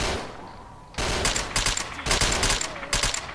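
Rapid bursts of automatic gunfire from the shooter game STALKER: Shadow of Chernobyl, loud, sharp cracks clustered in quick volleys after a quieter opening moment.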